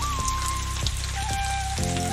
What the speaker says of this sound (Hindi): बारिश बहुत ज़्यादा आ रहा है